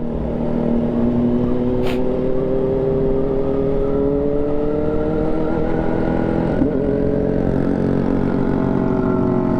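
A naked motorcycle cruising on a relaxed year-end ride, its engine droning steadily up close with rising and falling pitch as it revs through gears, mixed with road and wind noise throughout.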